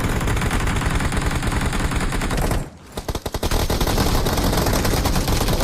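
Heavy automatic gunfire in the PUBG video game, dense rapid bursts that pause briefly and then resume loud and close.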